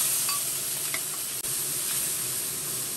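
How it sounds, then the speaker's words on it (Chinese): Pickled chili peppers and garlic stir-fried in a hot wok in a home kitchen, heard as a loud continuous sizzle and hiss with light scraping from stirring, plus one brief dip partway through. "把这个泡椒炒一下，泡椒大蒜"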